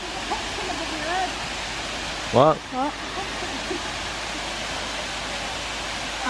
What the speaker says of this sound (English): It is a waterfall.